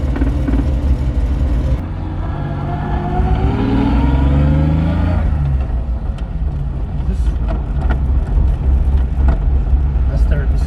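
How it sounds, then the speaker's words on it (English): A 1991 BMW 325i E30 on the move gives off transmission noise, a rising whine that climbs in pitch over a steady engine and road drone, then fades as the clutch goes in; people talk over it. "you hear that transmission noise?"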